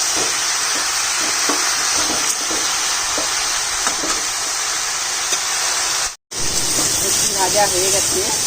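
Washed leafy greens hit hot oil in a pan with a loud, dense, continuous sizzle and hiss, broken by a brief silence before the frying carries on close to the mic.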